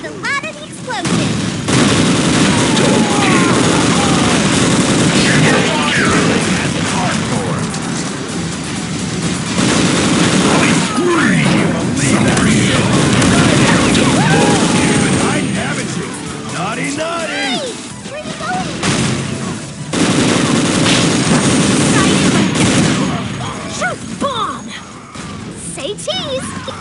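Dense, loud explosions and rapid gunfire from the video game Unreal Tournament 2004 crash almost nonstop for nearly half a minute, with voices heard among the chaos.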